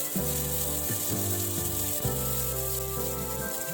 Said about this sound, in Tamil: இந்த அவரைக்காயும் சேர்த்து நம்ம நல்லா வதக்கி விட்டுக்கலாம்.